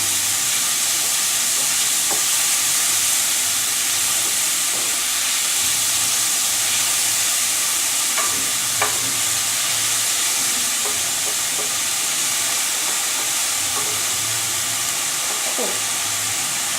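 Onions sauté in a pan with mince spice, giving a steady loud hiss like steady frying, with a few faint clinks of the utensil scattered throughout.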